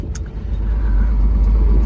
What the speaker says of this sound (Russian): Он в основном почти на холостых оборотах тарахтит, нагрузки нету.